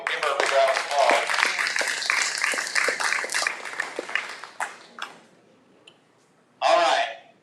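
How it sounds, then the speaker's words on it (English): Applause and clapping from an audience at a live auction, a dense wash of claps under mixed crowd voices for several seconds that fades out, then one more short, loud burst of clapping. "Give her a big round of applause."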